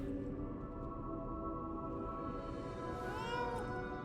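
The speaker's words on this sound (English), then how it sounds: "Here, kitty, kitty, kitty, kitty. Hi, kitty." A cat meows in the video game Lies of P, a drawn-out call near the end over a steady game soundscape of low hum and ambient tones.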